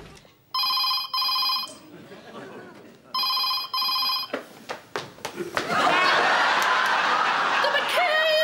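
A telephone rings in two-burst trills, twice, loud and clear in a domestic sitting room for an outgoing call, followed by laughter and applause from a studio audience.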